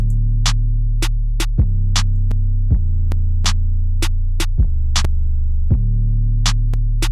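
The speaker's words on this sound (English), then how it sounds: "So this 808 is a cool 808 I like. It's pretty fat." A deep, sustained, fat 808 bass throbs underneath sharp, regularly spaced clicks and hits, following the chords and shifting pitch every second or so in a steady beat.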